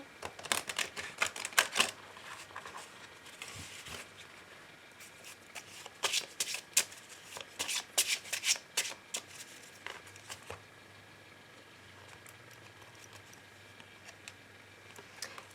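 Oracle cards being shuffled for a love reading, close rapid riffles and soft flicks in bursts with pauses between, fading to quieter handling toward the end.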